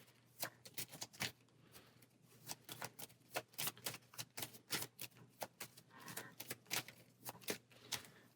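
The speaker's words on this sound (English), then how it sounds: "And shuffle our turn order deck." A turn order deck of cards in the Aeon's End Outcasts board game is shuffled, producing faint, crisp clicks and riffles that come in quick irregular bursts with no talk.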